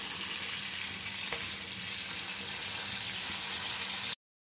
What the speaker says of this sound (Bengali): এবার মাছগুলো আমি একটু উল্টে উল্টে দিচ্ছি